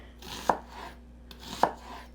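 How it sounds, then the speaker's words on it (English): Two distinct knife chops cutting an onion on a board, about a second apart, each a crisp close thud with a short woody knock, separated by near silence. "I'm going to go ahead and I'm going to cut up my onion"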